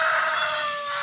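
A chicken calls loudly and close by in one short, sustained burst with no talking around it.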